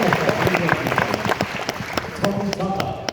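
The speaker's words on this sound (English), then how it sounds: "Round of applause, ladies and gentlemen." Audience applause after a boxing fight, with scattered, sharp individual claps rising over a steady crowd wash.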